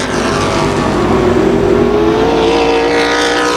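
Race cars circling Tucson Speedway in an outlaw main event, engines droning loud and steady with a rising whine as they power through, a continuous pack roar without a break.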